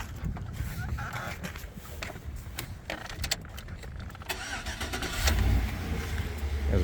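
A 2005 Chevy Avalanche pickup, low on fuel, cranks with a series of clicking, whirring pulses, then catches and settles into a low, rumbling idle that swells louder near the end, heard up close and outdoors.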